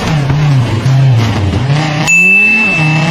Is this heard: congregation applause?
no